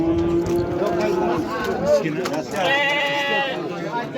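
Goats bleat at the Shofirkon livestock market in Uzbekistan, a few wavering calls rising over constant crowd chatter and background market noise.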